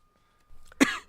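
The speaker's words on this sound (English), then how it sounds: "Some subliminal coughing there." A person coughs once, a short sharp burst that follows a softer throat sound, set against near silence in a quiet indoor room.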